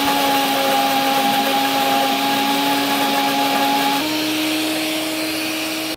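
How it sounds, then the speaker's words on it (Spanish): An electric mixer runs continuously at medium speed with a steady whirring pitch, loud and close, shifting slightly in tone partway through as it whips egg into mayonnaise. "Prendemos la batidora en media velocidad"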